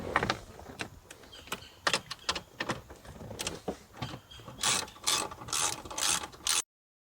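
A ratchet loosens 10mm bolts from the dashboard of a 2010-2011 Lexus RX, making close, rapid clicking bursts in quick repeated strokes, with no talking.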